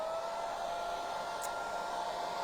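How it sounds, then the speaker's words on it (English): A handheld hair dryer blows steadily to dry freshly stenciled metallic paint, a loud continuous whooshing roar held for a few seconds close to the mic, then cut off abruptly. "Might just hit it with the hairdryer handy here"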